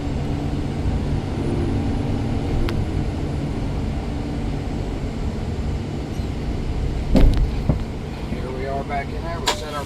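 A truck reversing into its starting position during an in-cab inspection, with a steady, loud engine rumble throughout and a few brief clanks and rattles near the end.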